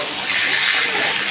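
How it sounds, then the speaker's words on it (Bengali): Pieces of green papaya drop into hot oil with a bay leaf for a light rohu fish curry, giving a loud, steady, hissing sizzle that fills the whole moment with no voices. "এবার দিচ্ছি আমি পেঁপেগুলো"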